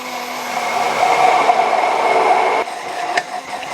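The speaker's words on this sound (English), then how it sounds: "Immersion blender goes in, full speed, time to emulsify." An immersion blender runs at full speed, emulsifying mayonnaise made with 250 ml of oil, a loud, steady motor whine with a tonal hum that dips and shifts briefly near the end.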